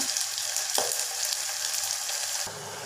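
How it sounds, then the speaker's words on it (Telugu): Fish seasoned with salt and turmeric frying in hot oil, a steady close sizzle throughout with a couple of brief stirring knocks and no talk. "చేపల్లో ఉప్పు, పసుపు వేసాను, వేగుతున్నాయి."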